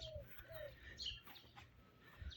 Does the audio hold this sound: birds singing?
yes